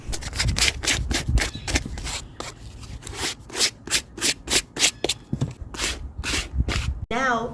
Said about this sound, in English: Give the shoes a sanding and then wipe down the dust.